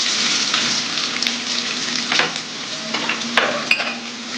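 Chopped onion pieces fry in a pan with bitter gourd for kakarakaya fry, a steady loud sizzle with intermittent scraping and clinks as a spoon stirs, with no talking.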